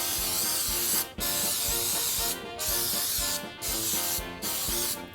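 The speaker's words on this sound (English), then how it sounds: "And be careful when you spray so you don't get it all over your cupboards." Baker's Joy baking spray is sprayed into cake pans in a steady, loud, close hiss, broken by several brief pauses between bursts.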